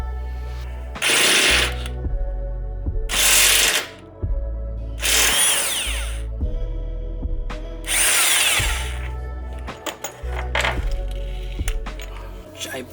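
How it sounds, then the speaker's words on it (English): An impact wrench rattles in several loud, sustained bursts while removing a bolt on a Hyundai Genesis Coupe, with shorter clicks and tool handling between them. "I'm going to be using an impact to pull that out"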